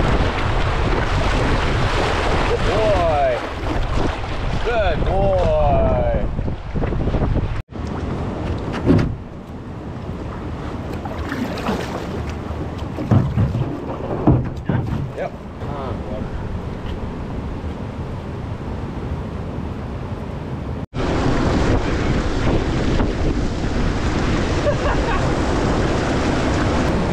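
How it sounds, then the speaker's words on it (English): Wind gusts over open water on a boat trip, buffeting the microphone in loud rushing bursts with waves and boat noise beneath, easing in a quieter middle stretch before returning strongly. "the wind keeps pushing right"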